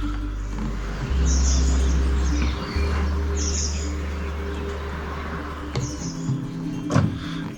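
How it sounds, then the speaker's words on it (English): Morning birdsong at a van campsite in the Peak District, with several bright chirps and short calls rising above a low steady engine-like hum, moderately close. "Beautiful greeting of the Birdsong in the morning."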